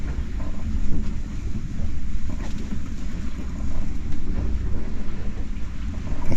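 Strong wind gusts of around 35 knots buffet a sailing boat heading into heavy weather between Fiji and Vanuatu, a loud, steady roar of wind and water rush with surging gusts and no talk.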